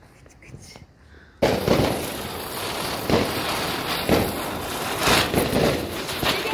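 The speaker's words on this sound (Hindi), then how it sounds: "कानू अब फोड़ने जा रहा है पटाखे, स्काई शॉट।" Sky shot firecrackers set off outdoors in Dehradun, several loud sharp bursts and crackles following one another amid continuous background noise, with people talking nearby.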